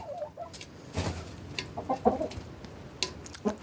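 Hens clucking and cackling nearby as they eat grain and a rooster mounts a hen, short irregular calls over a soft farmyard background.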